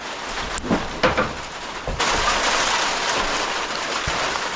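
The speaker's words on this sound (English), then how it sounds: "It's hail." Hail pelts the top of a bag outdoors in a hailstorm, a dense, steady patter of small hard impacts with a few louder thumps near the start.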